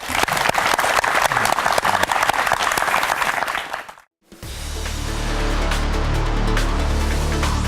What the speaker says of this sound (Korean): 수고하신 송봉균 대표께 큰 박수 부탁드립니다.